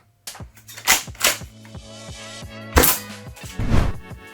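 A TM KSG airsoft shotgun fitted with an Acetech Quark K tracer unit fires BBs in a few sharp, close snaps, each followed by mechanical clacking and a repeating rhythmic ticking, with no voices.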